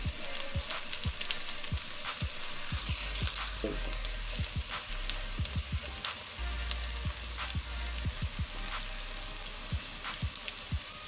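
Onions sizzle steadily as they fry toward light golden in a pan for a mixed vegetable curry with potato, peas and carrot, a dense continuous crackle with scattered louder pops and occasional stirring, no talk.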